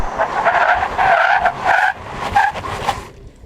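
Tires on a Toyota Land Cruiser squeal loudly through an emergency braking test, a close, wavering screech in several surges that tails off as the vehicle stops.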